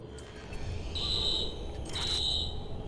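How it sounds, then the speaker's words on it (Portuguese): Alarm tone going off during gameplay in the video game Watch Dogs, with two steady high-pitched beeps over a constant low game background. Each tone lasts about a second and stands clearly above the mix. "O alarme foi acionado."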